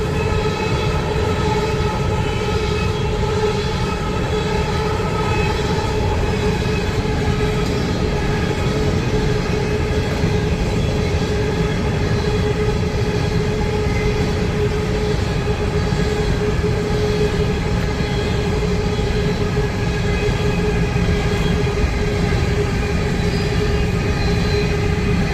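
A freight train with a mid-train locomotive rolls through downtown Cartersville, Georgia, giving a loud, unbroken rumble and engine drone at close range, with no voices.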